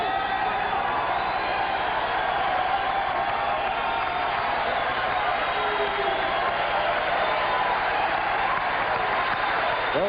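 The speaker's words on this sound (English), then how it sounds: "Bill Costello receiving the plaudits from the crowd." Boxing arena crowd applauding and cheering WBC champion Billy Costello after his fight with Saoul Mamby in New York, a steady dense wash of clapping and crowd noise for the full stretch, with a faint voice underneath.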